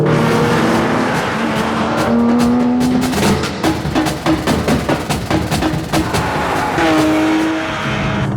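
A supercar being driven hard on the Stelvio Pass: a loud, close engine roar that shifts pitch through the gears, with a rapid stutter of crackles and short tire squeals midway, and no voices.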